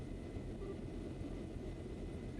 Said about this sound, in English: That's the sound of an airship engine.